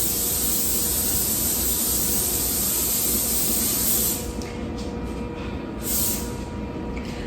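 Steady, loud cooking spray hissing continuously onto a 4.5 quart baking dish for about four seconds, then stopping; short bursts of spray follow, close to the microphone.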